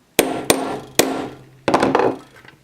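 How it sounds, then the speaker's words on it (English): A ball peen hammer strikes a metal pin installation tool on an American Flyer model train link coupler, giving three sharp, close metallic whacks followed by a rattling clatter that fades. "Give it a couple of whacks with the ball peen hammer."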